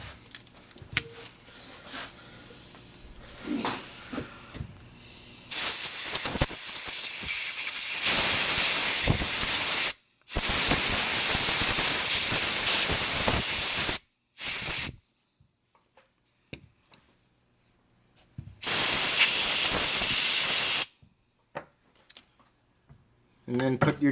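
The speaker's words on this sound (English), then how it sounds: "make sure you blow every little passageway out with compressed air and some carb cleaner and brake cleaner" Compressed air and carb cleaner spray hard through the carburetor of a STIHL 066 92cc chainsaw in loud, close hissing bursts of several seconds each, separated by pauses, with talking at the start.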